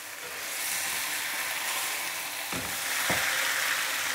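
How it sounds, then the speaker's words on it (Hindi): Vegetables are stirred into chicken in a hot pan for jalfrezi, a steady close sizzle with a couple of brief scraping stirs partway through. "अब इन वेजिटेबल्स को हम इस चिकन के अंदर ऐड कर देंगे और इसको हम अच्छी तरह से हल्के हाथ से मिक्स कर लेंगे।"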